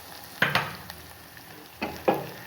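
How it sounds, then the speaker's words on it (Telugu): Masala for broad beans (chikkudukaya) fries in a pan with a soft background sizzle, broken by two pairs of sharp scraping stirs, close and unaccompanied by speech. "ఇదేమో చిక్కుడుకాయకి మసాలా వేగుతుందండి"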